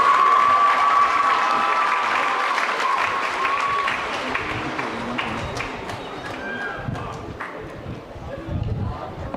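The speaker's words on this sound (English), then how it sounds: "Let's give her a round of applause." Sustained clapping from a crowd at a college commencement ceremony fills the whole stretch, steady and fairly loud, with a few louder bursts and background murmur mixed in.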